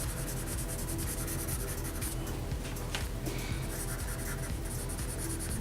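Pencil shading on drawing paper, a continuous close scratchy rubbing of graphite strokes with a brief harder scrape near the middle and no talk.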